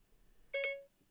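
A short electronic activation chime from the Siri voice assistant on a phone, a single clean two-note beep about a third of a second long, heard alone in a quiet room.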